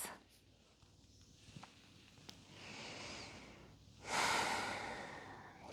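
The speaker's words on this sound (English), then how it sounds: "Okay, couple more breaths." A person draws slow, deep breaths during a yoga session for lower back pain, soft and close, ending in a louder, drawn-out exhale, with no talking.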